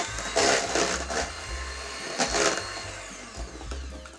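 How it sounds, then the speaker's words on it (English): An electric mixer whirs through marble cake batter in a few loud, uneven surges over a steady low motor hum. "Then we want to continue mixing."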